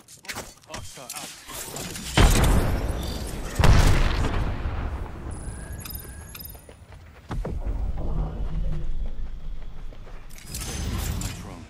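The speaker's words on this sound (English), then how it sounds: "Throwing grenade." A grenade detonates in a first-person shooter video game, a heavy boom followed by a second thud a moment later, with rumbling game action and voice chat talk around it.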